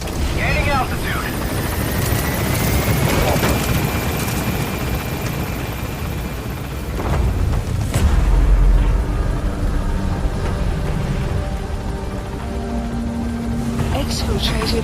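A helicopter climbs in Metal Gear Solid V, its steady rotor drone and engine whine filling the scene with a low rumble swelling midway, under game voices and radio chatter.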